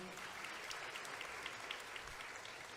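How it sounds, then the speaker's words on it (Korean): Congratulatory applause for a chairman at a celebration service, a steady wash of many hands clapping heard from a distance, soft and continuous. "우리 윤영대 회장님 다시 한번 축하의 박수 부탁드리겠습니다."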